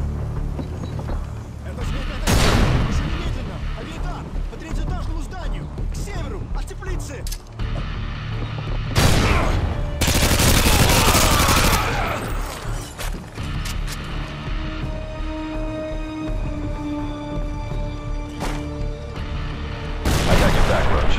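Heavy gunfire and grenade blasts from Call of Duty: Modern Warfare 2, with loud booming explosions near 2.5, 10 and 20 seconds over dense rattling weapon fire and battle noise, and voices shouting through the fight.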